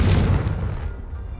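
A Confringo fire spell from Hogwarts Legacy lands as a loud, booming blast with a hard crack at onset, then rolls off into a decaying rumble over about a second, with no voices over it.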